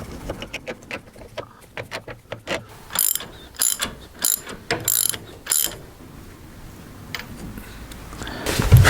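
A hand ratchet bolts down a wishbone ball joint on a Lotus Elise, giving a series of sharp clicking bursts in an uneven rhythm, close and clear, with no talking.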